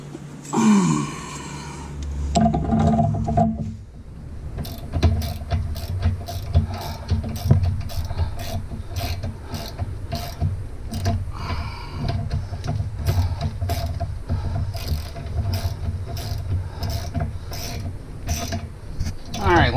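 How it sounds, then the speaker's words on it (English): Ratchet clicking in quick repeated bursts while tightening a bolt on a Jeep TJ front axle and steering, close and crisp, with brief pauses and shuffling between strokes. "So I'm going to tighten it up and then I'll show you what we did."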